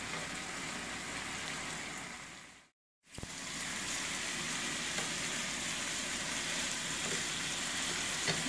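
Hamburger meat frying in a pan gives a steady, close sizzle with a fine crackle, broken by one brief gap of near silence before the sizzle resumes at the same level.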